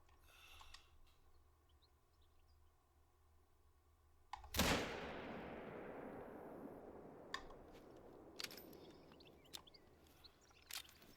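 A single hunting rifle shot fired at an animal in theHunter: Call of the Wild, set in Colorado, cracks sharply out of a quiet outdoor scene and rolls away in a long fading echo.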